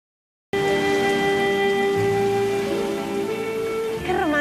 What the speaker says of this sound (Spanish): Qué romántica es la lluvia